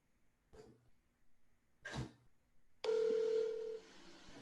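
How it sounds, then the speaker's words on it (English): On a meeting call line, a couple of short muffled noises come first, then a loud steady telephone tone sounds for about a second before fading into line noise. "Can you all at least hear the phone ring?"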